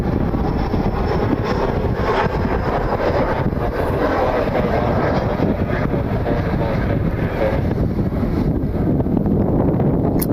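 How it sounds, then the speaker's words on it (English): A jet airliner on approach to land at Cleveland Hopkins International Airport, a loud steady roar heavy with wind noise that holds throughout without letting up. "First airplane of the day"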